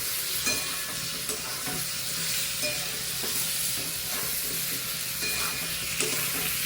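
A spoon stirs a thin curry of rohu fish, snake gourd and potato in a hot pan, giving soft repeated scraping over a continuous close sizzle, with no talk.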